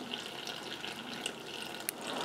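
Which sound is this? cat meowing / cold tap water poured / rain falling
cold tap water poured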